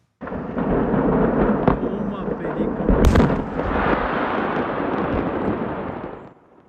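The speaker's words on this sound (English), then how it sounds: "a warehouse full of fireworks exploded in Yolo County" Fireworks warehouse exploding in Esparto, Yolo County: a sustained thunderous roar of blasts and crackling bursts, with a sharp louder detonation midway, heard from a distance and fading out at the end.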